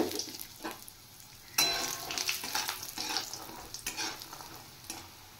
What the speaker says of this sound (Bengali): এবার আমি বড়ি ফ্রাই করে নেব।